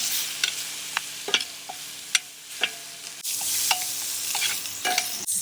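Spinach wilts in a hot cast iron pan, a steady sizzle punctuated by sharp scraping and tapping stirring strokes, close and clear with no voices.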